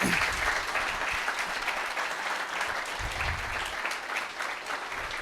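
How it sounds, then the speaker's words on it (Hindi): An audience welcomes a guest, a UPSC topper, with steady applause: a dense, continuous wash of clapping that stays level throughout. "तालियों के साथ उनका स्वागत करिए"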